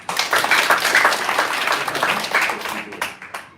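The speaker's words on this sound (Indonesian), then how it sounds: "Tepuk tangan." A church congregation claps hands together in a loud, dense burst of applause that holds steady and then tapers off.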